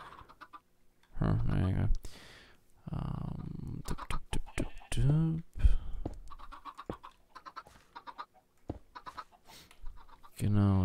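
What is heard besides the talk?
chicken dying in Minecraft, from a video game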